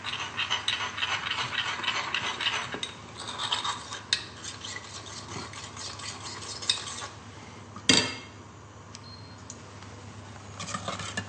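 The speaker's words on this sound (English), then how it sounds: "I'm just going to dilute some corn flour." Corn flour being stirred to dilute it in a kitchen, a continuous scraping and rubbing of a utensil against a bowl or pan, with a louder clatter near the end.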